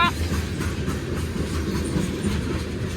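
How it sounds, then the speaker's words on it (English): A Union Pacific grain train rolls past close by, its wheels, some with flat spots, making a loud, continuous rumble and clatter with no pause. "If you look at the wheels on the train cars, you can actually see the flat spot sometimes. Toom, toom, toom, toom. That's what it sounds like."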